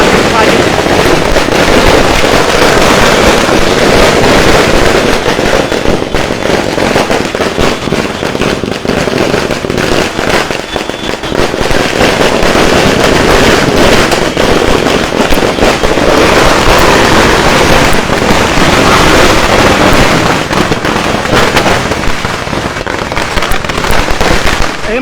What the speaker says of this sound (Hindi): ये देखिए आतिशबाजी।